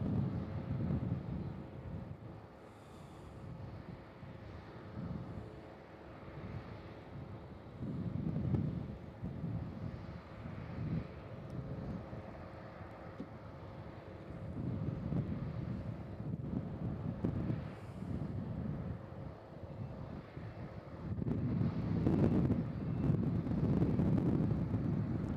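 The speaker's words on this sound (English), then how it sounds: "the wind has picked up just a tad here" Wind blows at Nashville International Airport, buffeting the microphone with steady low roaring gusts that swell and ease in waves, with no voices.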